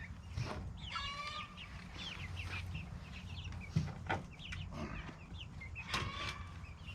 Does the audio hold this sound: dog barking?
no